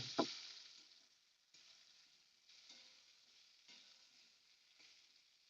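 Pointed gourd (potol) frying in a pan sizzles faintly, with a sharp scrape of stirring at the start and a few soft stirring sounds later.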